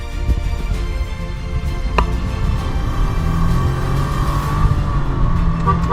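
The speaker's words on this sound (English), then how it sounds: "I'm going to just throttle it out full." A 2024 Nissan Magnite with a CVT revs at full throttle on an empty road, its engine note climbing in a steady, fairly loud drone heard from inside the cabin.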